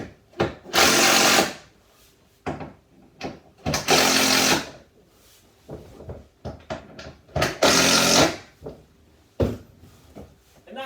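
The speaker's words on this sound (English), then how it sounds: "Tweak it and then tighten them all up fully" Worktop joint bolts are tightened with a power tool in short, repeated whirring bursts, loud and close, separated by pauses and small handling knocks.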